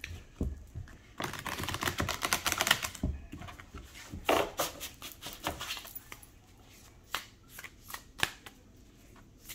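Shaman's Dream oracle cards riffled and shuffled close by, bursts of crisp flapping and soft clicks, busiest early, then scattered taps and light handling, no one speaking.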